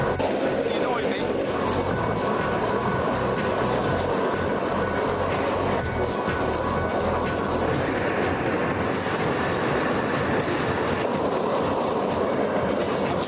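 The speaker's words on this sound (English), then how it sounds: "Bruce starts up the turbojet." A turbojet engine on a junkyard-built jet car runs with a loud, steady roar and hiss throughout, unbroken and close.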